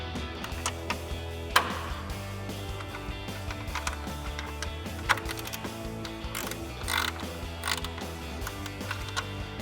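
A ratchet with a deep socket clicks in short irregular bursts while loosening headlight bolts on a RAM 2500, the mechanical ratcheting and creaks fairly close and moderately quiet.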